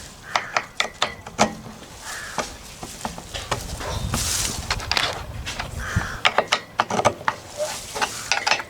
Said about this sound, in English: Just got to get the bolts undone